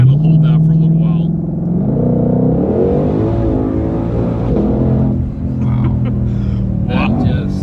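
A 2020 Shelby GT500 engine revs and pulls hard under acceleration with a paddle-held gear, a loud sustained rising roar with harmonic growl heard from inside the car, with people talking over it.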